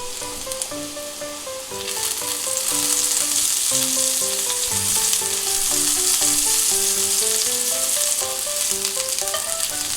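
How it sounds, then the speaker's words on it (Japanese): Mushrooms frying in a skillet after swordfish, a loud continuous sizzle swelling after a couple of seconds and staying steady, with light background music playing throughout and no talk. "フライパンは洗わなくていいのでキノコ類を焼いていきます"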